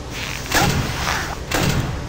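Two heavy metallic door closures from the Ultimate Custom Night horror game, each a short thudding slide about a second apart, loud and close over a constant low droning background.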